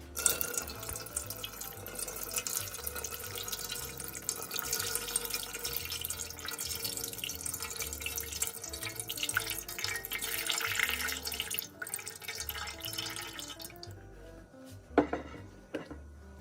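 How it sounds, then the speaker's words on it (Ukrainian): Steady pouring and splashing of boiling water into a pot for about fourteen seconds, with background music underneath, then a brief clank near the end. "зливаємо кипяток в каструлю"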